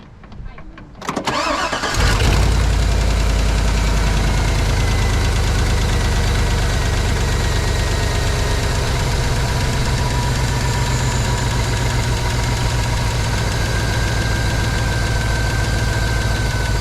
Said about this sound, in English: Now I always start the motor, let it run for a couple minutes